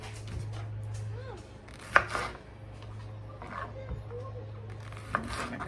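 Knife chopping large fresh jalapenos on a cutting board, a few scattered sharp cuts with two louder thumps, close and fairly quiet over a low steady hum.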